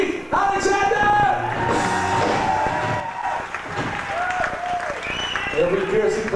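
Concert audience applauding a guitarist at a nightclub show, loud sustained clapping and cheering with shouts, mixed with voices and stage sound.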